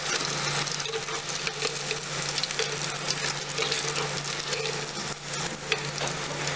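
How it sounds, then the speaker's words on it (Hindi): Chicken popcorn pieces deep-frying in hot oil, giving a steady, dense sizzle and bubbling throughout, close and fairly loud, with faint occasional clinks. "जो हमारे बाकी के हैं उनको भी फ्राई कर लेते हैं"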